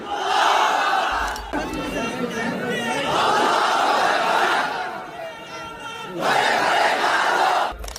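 A large religious gathering shouts takbir in unison, three loud collective call-outs separated by brief gaps, the massed voices booming across the crowd.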